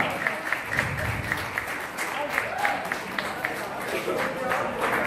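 A crowd claps to welcome a newly appointed district president at a local party gathering, with steady irregular clapping under a loud voice talking over it.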